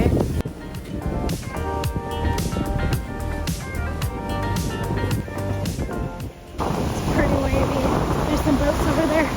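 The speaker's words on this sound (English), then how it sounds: "But it's pretty windy today." Strong wind buffets the microphone on a beach with boats nearby, a steady roaring gust that swells louder near the end, with tonal music-like sounds mixed underneath.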